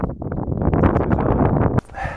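Strong wind on Mount Aragats in Armenia roars and buffets the microphone in a dense, steady rush, then drops abruptly to a thinner, airy hiss.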